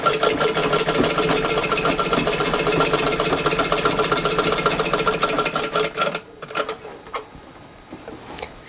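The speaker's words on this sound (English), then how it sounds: "we're just going to run a straight stitch along the edge here" A sewing machine runs a straight stitch along a fabric edge, a fast, even mechanical whirr with rapid needle ticks that stops abruptly, leaving a few faint clicks and handling sounds.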